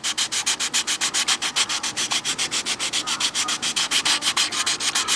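Sandpaper rubbed briskly over a balsa wood model airplane cowl, a fast steady series of rasping strokes, roughly eight per second, loud and close, with no talking.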